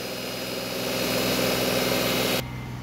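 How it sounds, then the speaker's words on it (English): A 2019 Renault Kwid 1.0 automatic runs at a steady, loud, high idle with constant mechanical drone and vibration, cutting abruptly to a lower, quieter running note near the end. "Vehicle starts, idles very high."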